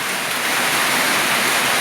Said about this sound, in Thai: มีบรรยากาศฝนตกพี่น้อง